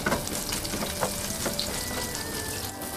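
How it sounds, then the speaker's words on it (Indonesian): Garlic, shallots and ginger sautéing in a little leftover oil in a wok, with a steady close crackling sizzle and a few scattered pops and clinks throughout, without any talking. "sisakan sedikit minyak, tumis bawang putih, bawang merah,"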